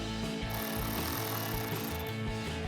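A socket tool drives a headlight bolt inside the wheel well of a 2016-2023 Toyota Tacoma, giving a continuous, fairly quiet mechanical whirring rattle that lasts throughout.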